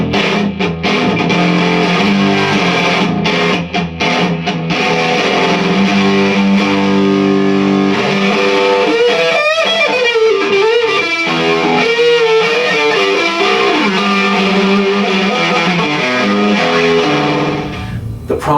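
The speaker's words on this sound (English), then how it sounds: "You turn the distortion all the way up and you get some pretty heavy sounds as well." A vintage MXR Distortion+ guitar pedal with the distortion turned fully up gives a loud, saturated, heavily fuzzed guitar tone with sustained chords and bending notes, continuous and upfront.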